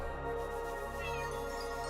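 Cat meowing in the video game Chained Echoes, a short plaintive call over the game's steady background music.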